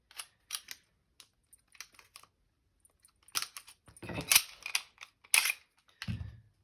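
Hi-capa airsoft pistol being worked open by hand, a run of sharp metallic clicks and snaps, sparse at first then denser and louder, ending in a low handling thud, with no talking.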